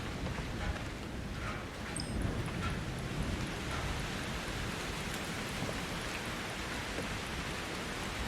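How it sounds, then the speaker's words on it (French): Rain of blood falls in the horror video game Outlast 2 as a steady, soft hiss of rainfall on surfaces, continuous and fairly faint with no talk over it. "Il pleut du sang ou c'est moi là?"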